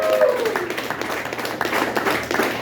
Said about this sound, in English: So if you guys can clap it up for Alex.